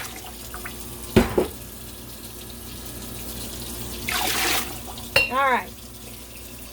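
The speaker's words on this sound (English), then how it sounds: "So I am filling up a quart jar and pouring it in." Water is poured from a quart jar into a pressure canner while canning squash, with short splashing bursts and a gurgling pour among quiet kitchen sounds, and a voice speaks briefly.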